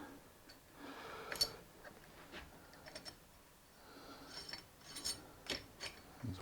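Bolts being fastened by hand during an FX Dreamline Lite to Dreamline Tactical air rifle conversion, giving faint mechanical ratcheting clicks and ticks in short bursts, close up and quiet with no talking.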